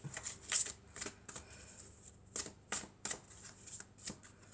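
Oracle cards being shuffled by hand during a monthly astrology reading, a quiet series of crisp riffling flicks and soft slaps repeating at an irregular rhythm, close by, with no voices over them.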